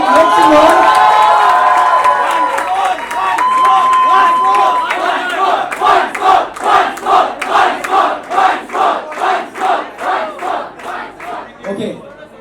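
Loud crowd at a college film launch event clapping in a steady rhythmic beat while cheering and whooping, the claps growing sharper and more regular toward the end.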